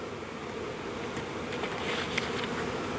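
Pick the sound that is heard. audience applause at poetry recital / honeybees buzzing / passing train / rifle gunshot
honeybees buzzing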